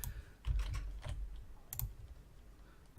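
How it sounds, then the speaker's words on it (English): Computer keyboard typing picked up by a sensitive microphone during a gaming session: a quick flurry of close, soft key clicks and thumps, then a pause and a couple more taps. "Sorry that you have to hear so many sounds from my keyboard."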